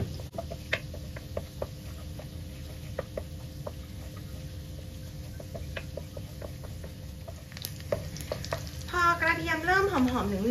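Garlic stir-frying in melted butter in a pan, a steady soft sizzle with regular light ticks of a utensil, and a brief burst of something higher near the end.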